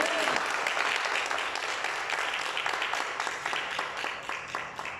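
A church congregation gives a strong round of applause, a dense, continuous clapping crowd that fades gradually, with voices faintly mixed in.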